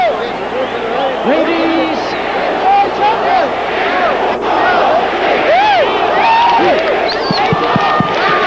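Dense crowd noise fills a boxing ring after a Julio Cesar Chavez vs Angel Hernandez fight, with overlapping shouts and voices throughout, steady and fairly loud, and people talking amid the din.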